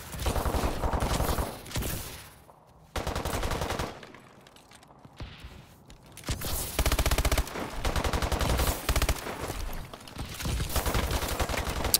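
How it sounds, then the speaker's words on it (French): Sustained bursts of rapid automatic gunfire ring out in a hardcore riot-style shooter game, loud and dense, broken by brief lulls before the shooting resumes. "je tire trois fois dessus"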